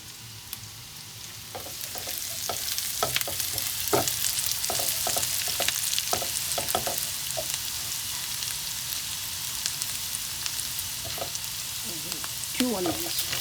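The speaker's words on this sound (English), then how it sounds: "I'm adding the chili now, green chili. One stack of curry leaves." Green chili and curry leaves fry in a pan for a biryani, a steady close sizzle with scattered pops and crackles throughout, louder in the later part.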